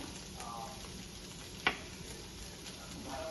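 Jackfruit pieces stirred in a pan with ginger-garlic, salt and chili, giving a soft steady sizzle with a single sharp clink of a spoon against the pan midway.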